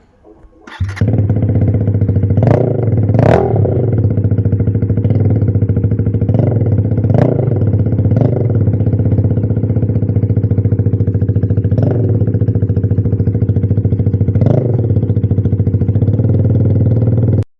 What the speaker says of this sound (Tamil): அதுக்கு முன்னாடி எக்ஸாஸ்ட் நோட்டை கேட்டு வந்துருங்க.